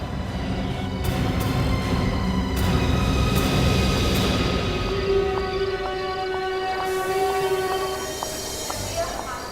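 A running train rumbles steadily with rolling wheel noise, and thin squealing tones and brief horn-like notes rise above it, while people speak over the clatter.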